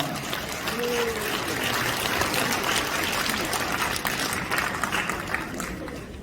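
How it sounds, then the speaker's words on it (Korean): An audience at a Christian leaders' gathering in a large hall applauds to welcome a pastor to the stage, a dense, steady wash of clapping with a faint voice briefly audible under it. "박수로 환영하겠습니다."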